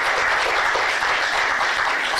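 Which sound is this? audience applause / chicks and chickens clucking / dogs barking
audience applause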